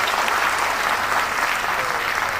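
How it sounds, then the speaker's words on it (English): An audience at an Onam celebration applauds, a dense, even wash of many hands clapping that holds steady throughout without voices standing out. "Well, I know you're clapping,"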